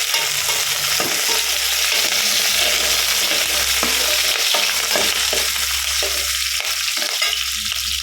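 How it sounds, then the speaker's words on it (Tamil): Onions and curry leaves sauté in a pan for a cauliflower potato kurma, a loud, close, steady sizzle broken by repeated stirring scrapes, with no talking. "கறி லீஃப் சேர்த்துக்கலாம். சேர்த்து நல்லா வதக்கணும்."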